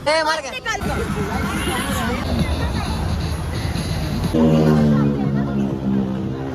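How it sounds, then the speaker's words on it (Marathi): A packed, noisy tourist spot in Goa fills with the babble of a dense crowd. Several nearby voices talk loudly over the steady hubbub. "एवढं रश आहे इथं एवढं भयंकर गर्दी आहे"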